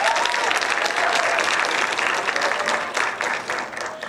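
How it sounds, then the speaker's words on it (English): An audience applauds a jazz ensemble and its soloist at a school concert, dense sustained clapping from a full room that swells and then slowly thins toward the end. "Give our soloist and Jazz Ensemble 1 another round of applause,"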